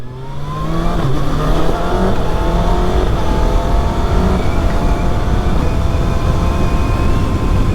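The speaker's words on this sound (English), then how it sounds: "you can't beat the sound of a 4-cylinder." A 2025 Kawasaki Ninja ZX-6R four-cylinder motorcycle engine revs and drones loudly nearby, its pitch climbing and holding in a high, buzzing whine for several seconds.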